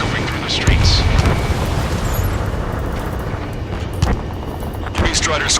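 Rumbling booms and bursts of gunfire mix with the roar of jets over a city under martial law in the Ace Combat 7 video game, a loud, continuous wash with sharper hits throughout.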